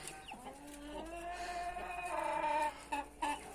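Chickens cluck and call softly in an outdoor yard, a few overlapping bird voices with short louder bursts near the end.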